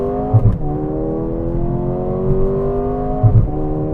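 A 2024 Mercedes-AMG GLA35 engine revs up steadily, its pitch rising through a gear change with a brief dip and surge, loud and close.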